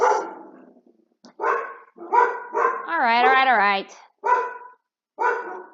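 Puppies barking at home, a run of sharp close yips and barks with one drawn-out whining howl in the middle, loud and separated by brief pauses, with a brief spoken word.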